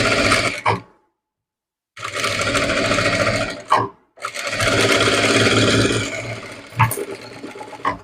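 A sewing machine stitches a sleeve joint in bursts of steady motor whirring, stopping and restarting between runs, loud and close with no talking.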